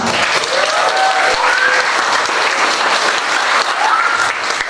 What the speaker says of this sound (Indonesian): Aplaus untuk sukses kita bersama.